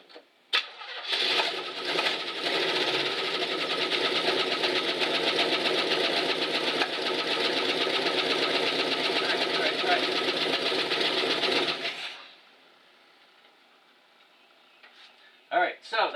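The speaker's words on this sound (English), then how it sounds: "So we're going to go ahead and crank it over. We're going to hope that it starts right up." A 1970 Chevrolet C-10 engine with a freshly replaced camshaft cranks, catches and runs loud and steady at a fast idle for about ten seconds, then shuts off, leaving quiet with a few clicks.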